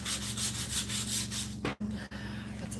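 Steady rhythmic wet sanding with sandpaper and water across a surface, back-and-forth strokes close up, briefly pausing near the end before resuming.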